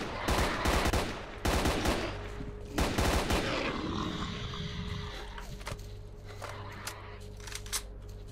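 Bursts of RPK machine gun fire in the video game S.T.A.L.K.E.R. Faction Wars, loud and close, come in several rapid volleys over the first three seconds, then fade into a lingering echoing tail and quiet ambience.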